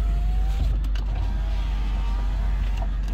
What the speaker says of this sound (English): driver's side window works